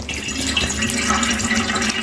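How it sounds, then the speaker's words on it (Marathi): Cold water pours steadily over hot, freshly drained pasta in a colander, a continuous close splashing rush with no pauses. "आता हे गरम आहे ना, मला याच्यावर थंड पाणी टाकते"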